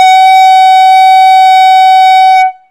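Clarinet mouthpiece with reed blown alone, a loud, piercing sustained squawk tone held for about two and a half seconds before stopping abruptly, close and without talk.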